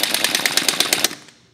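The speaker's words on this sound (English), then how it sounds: "Now we're going to use the impact gun with a torque stick to run these down and do the initial torque on them." A rapid burst of an impact gun fitted with a torque stick rattles on a wheel's lug nuts during initial tightening, about ten loud hammering blows in just over a second before fading out.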